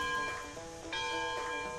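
A steam locomotive's bell in the train simulation game Railroads Online, giving a few quiet metallic rings with a long, shimmering decay, heard on its own.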